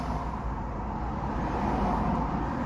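Steady road traffic noise heard from inside a car driving near the Dubai Sharjah exit in daily congestion, a continuous low rumble and hiss at even loudness throughout.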